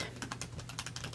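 Quick, light tapping of keys on a computer keyboard: a short burst of rapid, uneven clicks, faint and close, with nothing else over it.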